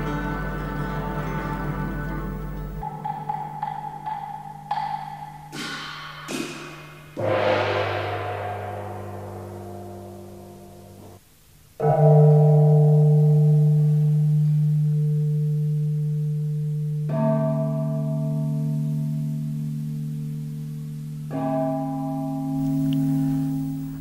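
An ancient Chinese bronze chime bell set from the Zhou dynasty, played in a series of struck tones that each ring and slowly decay, some pitches sustained under a soft background drone, with no voices.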